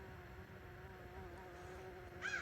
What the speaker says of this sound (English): Bees are loving it.